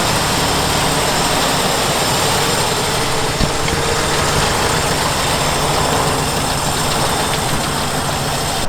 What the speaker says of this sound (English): Beetle actually sounds like it's running really well